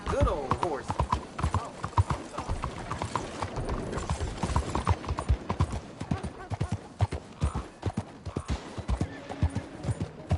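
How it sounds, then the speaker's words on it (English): Horse hooves in the Western game Red Dead Redemption 2 clip-clop in a steady, close rhythm throughout, with a brief whinny near the start and voices talking over the hoofbeats. "There's a good old horse."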